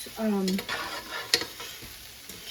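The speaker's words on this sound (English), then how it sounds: "I just want to get a little bit of a brown on that beef." Beef browning in a pot for chili con carne, a soft steady sizzle with a few stirring scrapes and one sharp clink, close by; a brief voice murmur at the start.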